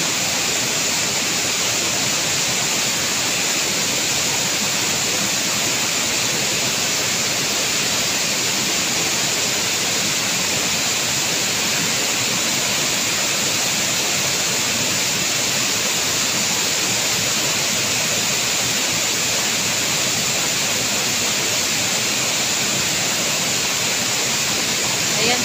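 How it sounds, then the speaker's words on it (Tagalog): Natigbasan Falls, a tall waterfall, roars as a dense, steady rush of falling water, loud and unbroken throughout, heard from nearby with no other sounds on top. "Ayan po ang Gantungan Falls natin."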